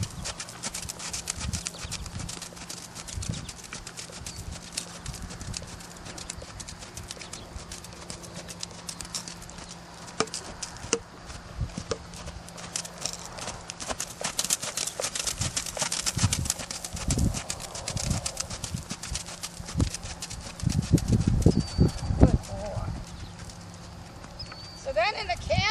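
A horse walks over ground poles in a training maze, its hooves thudding and clopping unevenly at close range, with a person talking intermittently over the steps.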